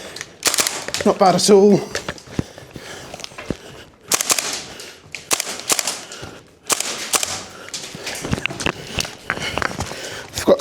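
WellPro AK12 gas blowback airsoft rifle firing on a timed gauntlet course, sharp cracks at irregular intervals mixed with footsteps and movement, with someone speaking briefly between shots.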